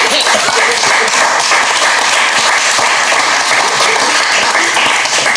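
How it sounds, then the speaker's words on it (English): Studio audience applause during a hip-hop interview, loud dense clapping that stays steady and full throughout, with no voices standing out over it. "I feel like you should clap for that."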